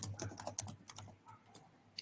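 Quick typing on a computer keyboard in a lecture setting, a short run of light, soft key clicks, close but quiet.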